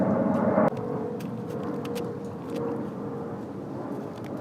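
An airplane passes overhead as a steady, moderate engine drone with a broad hum that holds throughout, with faint clicks and handling noises scattered over it.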